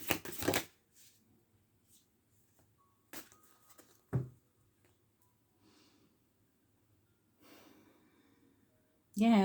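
A deck of tarot cards is shuffled at close range in short, scattered bursts, with long quiet gaps between them and soft breaths heard in the pauses.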